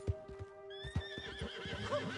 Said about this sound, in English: Hey! My horse!